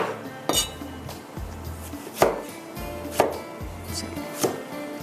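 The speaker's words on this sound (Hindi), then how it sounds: "ये देखिए इसके टुकड़े करते हैं।" A knife chops mutton on a board with about five sharp, evenly spaced thuds, close and clear, with no talking.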